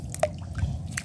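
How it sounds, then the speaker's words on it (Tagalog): A few scattered water drips patter off a fishing net pulled in with tilapia, quiet and close, with soft squishy sounds between them. "Mga tulong-tulo din."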